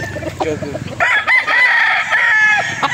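Jugod Gray bloodline gamecock rooster crowing on a gamefarm, one loud, close drawn-out crow following some clucking and low voices, with people talking quietly before it.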